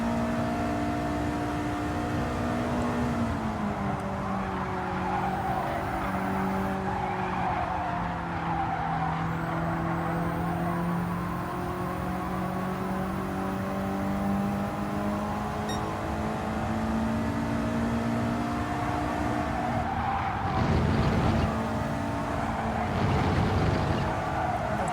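Race cars on the final lap in a racing video game: a loud, continuous engine whine that rises and falls in pitch, ending in bursts of tire squeal and skidding.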